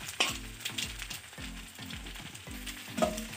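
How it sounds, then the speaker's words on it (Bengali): Dry red chillies and bay leaves crackle in hot oil alongside panch phoron, a busy close sizzle punctuated by the scrape and knock of a spoon stirring in the pan, with no voices. "শুকনো লঙ্কা তেজপাতা একটু ভালো করে ভেজে নেবে"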